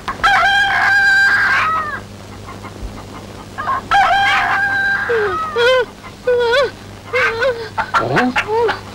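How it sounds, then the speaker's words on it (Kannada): A rooster crows loudly several times in a comic Kannada film scene, the long wavering calls alternating with clucking and repeating over the whole stretch, with voices talking in between. "ಇದೇನೆ ಹೊಟ್ಟೆ ಒಳಗೆ ಹುಂಜ ಕೂಗ್ತಾ ಇದೆ?"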